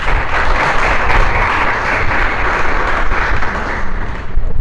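A congregation at a religious service gives a loud, dense round of applause that holds at a steady level from start to finish with no gaps.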